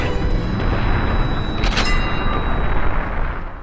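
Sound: grenade explosion in video game Medal of Honor, Operation Neptune

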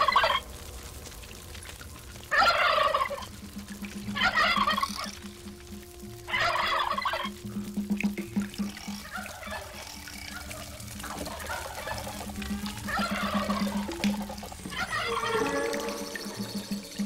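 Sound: turkeys gobbling

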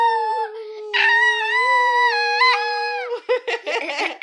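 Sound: person imitating a wolf howl

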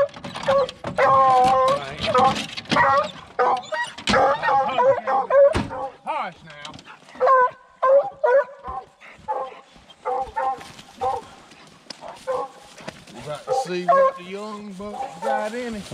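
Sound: coon hunting dogs whining and barking before release

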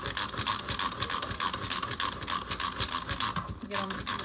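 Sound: grating onion for meatloaf

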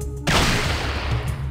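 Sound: gunfire from the video game Fallout 2

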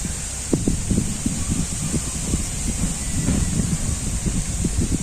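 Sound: wind blowing before a rainstorm

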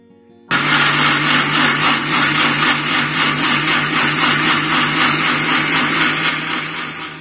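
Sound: mixer grinder grinding watermelon

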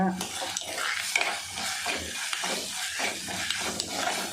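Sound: ginger garlic sautéing and stirring in pan

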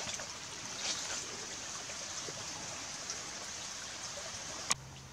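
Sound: small creek flowing on the Appalachian Trail

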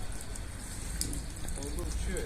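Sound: rain

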